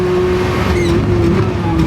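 A Lamborghini Countach QVX race car at high speed, its engine a loud, steady whine from inside the car with a sustained tone and shifting upper harmonics.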